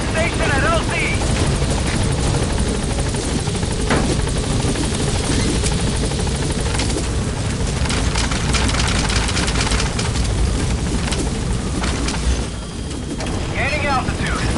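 A helicopter in Metal Gear Solid V hovers loud and constant at the landing zone, a dense rotor and engine roar filling the whole stretch, with radio chatter over it.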